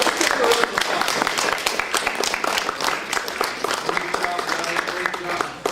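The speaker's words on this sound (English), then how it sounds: "That's a round of applause" Audience applause for student inventors, a patter of clapping that carries on steadily under a speaking voice, moderately loud and tapering near the end.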